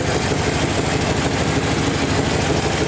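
A Chevy car engine idles steadily with a low, rumbling exhaust drone, close and continuous throughout with no voices.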